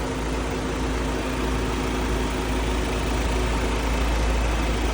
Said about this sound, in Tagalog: napakatahimik ng ating engine